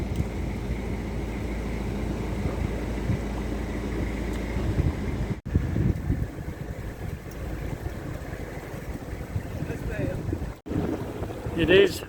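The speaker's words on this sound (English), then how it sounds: "It is very, very windy." Strong gusting wind near Hurleston Reservoir roars and buffets the microphone continuously, with low rumbling from a canal boat working through a lock beneath it.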